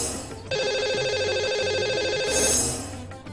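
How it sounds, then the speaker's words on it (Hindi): A telephone rings while a caller's number is being dialed, a close, steady electronic ringtone that starts abruptly and holds its warbling tone for about three seconds before stopping. "ये लगाते हैं उन्हें सबसे पहले नंबर।"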